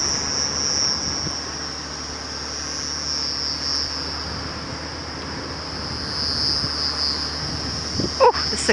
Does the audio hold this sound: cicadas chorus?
yes